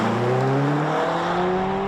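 A heavy Hyundai Ioniq 5 N performance electric car with upgraded brakes brakes hard to a stop, giving a loud, steady whine that falls in pitch over road and wind noise.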